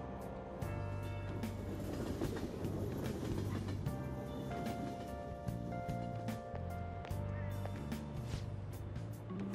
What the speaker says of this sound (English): While we're riding the train, we've got some downtime.